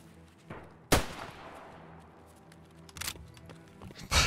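Gunfire in a video game, with a sharp loud shot, a decaying tail, then scattered further bursts and a final loud blast, over a quiet background.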